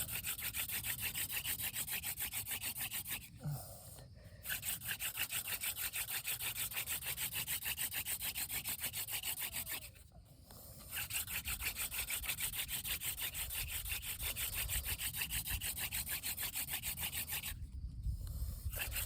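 A mullein spindle is spun by hand on a willow board for a hand drill friction fire, giving a continuous rasping, rubbing drone that pauses briefly three times, close and quiet.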